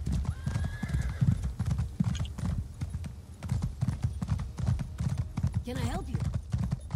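A horse in Elder Scrolls Online trots with steady, close hoof clip-clops, and a whinny rises near the end; a voice talks throughout over the hooves.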